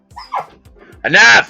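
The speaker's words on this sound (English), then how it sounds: "Sorry for the dogs." Dogs bark and whimper nearby indoors, with a short yip, then one loud bark, while someone briefly shouts at them.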